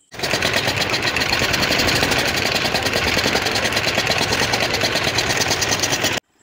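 A river ferry boat's engine runs while crossing toward Mayapur in Nadia, making a loud, fast, rattling chug that continues steadily for about six seconds and then cuts off abruptly, with no voices.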